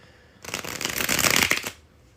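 A deck of cards riffled and shuffled up close, a dense crisp burst of flicking paper lasting about a second and a half, then quiet.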